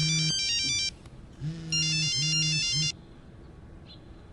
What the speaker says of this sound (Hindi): हाँ हेलो पंकज, फोन क्यों नहीं उठा रहा तू?